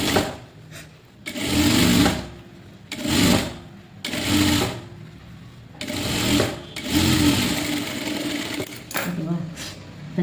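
Sewing machine stitching a blouse lining piece runs in several loud whirring bursts of a few seconds each with short pauses between, as a woman explains the steps.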